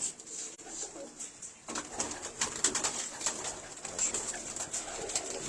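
Pigeons offered for sale coo steadily and repeatedly throughout, with bird calls layered over a constant background hiss and no voices.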